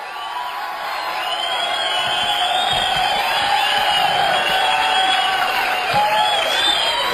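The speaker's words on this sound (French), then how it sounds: "Le professeur Gabuzo est applaudi à tout rompre." Studio audience applauding and cheering at a show for a Professor Gabuzo, a dense, steady wash of clapping with whoops and shouts rising over it, loud and sustained throughout with no speaking.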